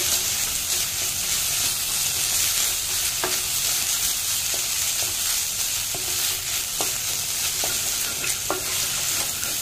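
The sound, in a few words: stirring coconut paste stuffing in a frying pan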